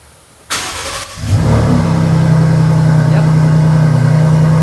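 A Ford F150 Raptor pickup engine, freshly flash tuned, cranks and catches close by, then settles into a loud steady idle with a low drone.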